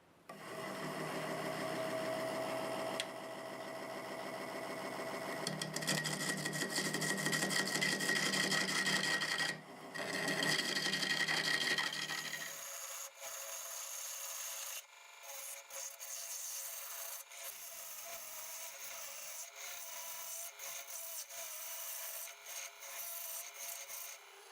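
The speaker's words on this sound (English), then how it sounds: "We'll start with a 3/8 gouge just to keep from taking too big of bites." A 3/8 gouge cuts segmented wood spinning on a lathe, giving a steady scraping, rasping hiss that continues throughout and turns thinner and more intermittent in the second half, with no talk.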